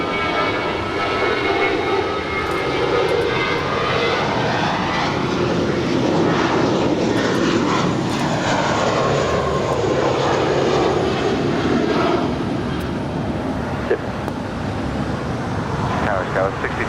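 A United airliner's jet engines roar loud and continuous during takeoff from LAX runway 25 right, a dense, sustained rumble with traffic noise beneath and air traffic radio voices running over it.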